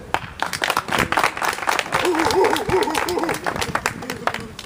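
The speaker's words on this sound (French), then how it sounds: "Applaudissez." An audience at a Cameroonian community gathering breaks into sustained applause, a dense crowd clapping that rises and holds, while a voice speaks over it in the middle.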